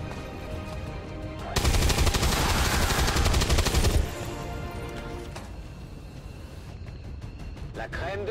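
Automatic weapon fire in the video game XCOM 2 targets an exposed Viper. A loud, rapid burst of gunfire runs for about two and a half seconds, then gives way to quieter game ambience, with a voice talking.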